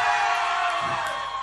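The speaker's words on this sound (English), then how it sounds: "I want to hear you scream nice and loud if you're not from Sweden." A concert crowd in Stockholm screams and cheers, a dense, sustained roar of many distant voices and whoops, steady for a brief moment with no single voice standing out.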